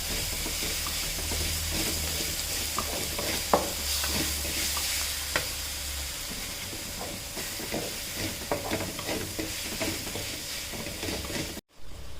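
Spinach sautéing in a pan for a spinach and lentil curry, a long quiet sizzle with frequent stirring scrapes and occasional light knocks of the spoon, steady throughout until a brief cut near the end, with no voices.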